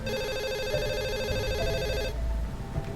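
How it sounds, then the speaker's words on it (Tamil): A telephone rings with a bright electronic warbling tone that repeats rapidly for about two seconds and then cuts off, over a low background hum. "11:33 ஒரு ஃபோன் கால்."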